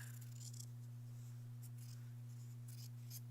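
Scissors trimming fusible fabric for a quilt block, a few faint, quick snips spaced apart over a constant low electrical hum.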